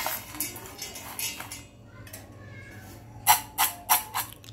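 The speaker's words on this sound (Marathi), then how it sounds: "मस्तपैकी असं हलवून घ्यायचं आणि एकजीव करायचं ते" Chana dal being mixed with masala in a bowl, a few soft scrapes and then four sharp, close clinks of a spoon against the vessel near the end, with quiet gaps between.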